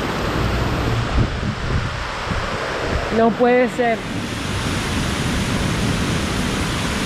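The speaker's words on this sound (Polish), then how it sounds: "Patrzcie, jak tu szybko po prostu się zbiera woda." Water rushes broadly and steadily as runoff quickly gathers into a stream, a continuous wash of noise lasting throughout, while someone briefly speaks over it midway.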